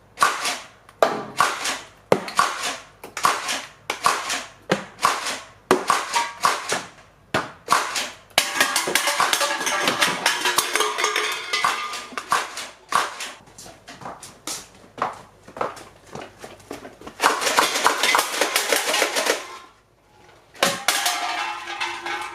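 Toy Adventure Force Decimator blaster darts shot at cups and cans: a series of sharp, close snaps and clatters in uneven bursts, some clustered rapidly, with short pauses between volleys and no talk.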